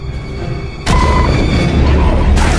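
Loud sudden burst of gunfire erupts in The Bureau: XCOM Declassified, a heavy booming blast followed by sustained rumbling fire that swells again near the end.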